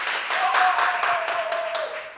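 Brief rhythmic clapping from a small audience at a music show, a few evenly spaced group claps in a steady beat with a faint sustained tone running underneath.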